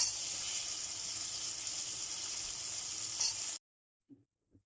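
Green beans tossed into hot oil with chilli powder and cumin, sizzling loudly and steadily as they sauté in the masala. The hiss cuts off abruptly, followed by a couple of faint knocks in near silence.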